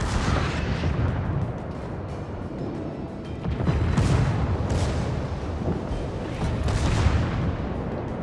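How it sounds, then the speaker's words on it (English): In World of Warships, the Musashi's secondary guns fire again and again, heavy booms and rumbling salvos coming in waves over a continuous din of battle, with no talk. "With our secondaries still opening fire."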